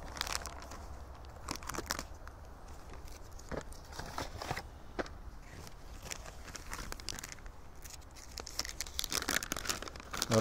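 Plastic packaging of a Lithuanian field ration is torn and crinkled open nearby, in a run of sharp crackling rips and rustles that continue irregularly throughout, with no talking.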